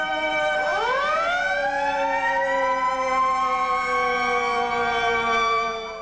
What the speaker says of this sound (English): I was thinking of the track as being a series of sirens, and sirens only